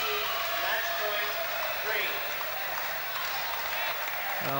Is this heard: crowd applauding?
yes